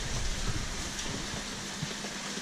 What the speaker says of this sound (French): Oh non, il pleut en fait.